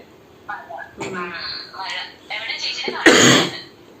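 A sharp cough bursts out near the end, loud and close, following some brief throat sounds and speech.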